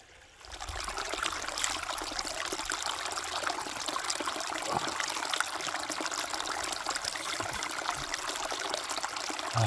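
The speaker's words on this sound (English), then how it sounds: "here's another one of those natural springs that we saw on the way in" A natural spring along a backpacking trail at Mora Flats, water trickling and splashing steadily up close, starting softly then holding a constant bright rush for the rest.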